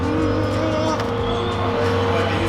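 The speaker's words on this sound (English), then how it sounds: "So we're going to get Fionn to back it up onto the ramp here and get a good look around this Lexus." A Lexus show car reversing up onto a ramp, its engine a steady loud close drone with some tonal whine and shifting revs, over continuous background noise.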